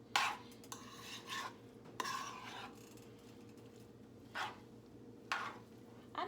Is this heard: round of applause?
no